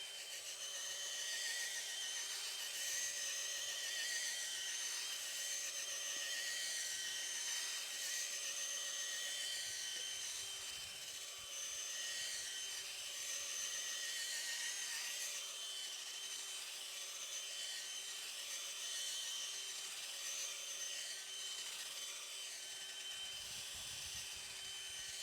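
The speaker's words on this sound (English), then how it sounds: "then I can like move my auger like side to side" A powered garden auger drills a hole in soil while planting a perennial, giving a continuous high whining grind that stays steady for the whole stretch and is heard alone without talk.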